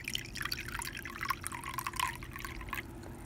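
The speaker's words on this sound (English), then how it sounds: "So I'm gonna put my warm water in." Warm water poured into a container for a cheese-based slime recipe, a close trickling and dripping splash that runs steadily for a few seconds with no talking.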